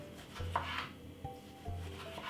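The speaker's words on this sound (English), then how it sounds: "First of all, what we're gonna do, slice it like this." A knife cuts slices from a beef tomato on a board, with a few short, soft chopping taps and rubbing strokes, quiet and close, with no voices.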